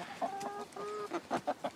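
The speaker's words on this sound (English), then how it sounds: "So here's a bunch of Brahmas" Brahma chickens clucking in a backyard flock, a run of short rhythmic clucks and drawn-out calls from nearby hens, loud and clear with no talk.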